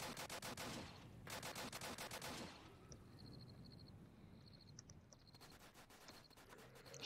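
Rapid automatic gunfire in the Roblox game Apocalypse Rising, a magazine sprayed in two long fast bursts, then quieter clicks and beeps before another burst starts.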